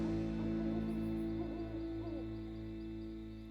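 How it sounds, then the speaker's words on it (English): A cartoon owl gives a series of soft, wavering hoots over a steady droning musical background, moderately loud and continuous. "That's the cry of the owl."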